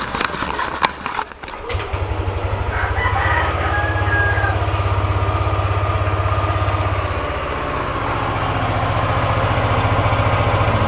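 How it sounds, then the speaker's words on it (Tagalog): A small Yamaha Aerox 155 motor scooter engine, just after an oil change, cranks and catches after a couple of seconds, then settles into a steady, loud, close idle with a rapid even putter. "papaanda rin na natin. Start natin ang makina."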